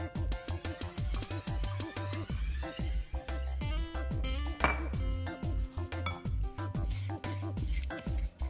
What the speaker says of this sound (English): Now I will be mixing my egg.